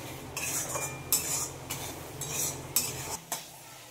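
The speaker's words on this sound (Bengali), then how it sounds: "এগুলোকে একসঙ্গে মিক্স করব, দিয়ে কিছুক্ষণ কষাবো" Ground cumin, turmeric and other spices are stirred and fried in oil in a pot, with a low sizzle under repeated metal spoon scrapes and clinks against the pan, close and without speech.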